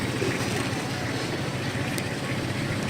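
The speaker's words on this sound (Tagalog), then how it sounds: "Hindi ko pinatay yung motor" A boat's motor idles, left running on the water, a steady low rumble mixed with wind noise that continues without break.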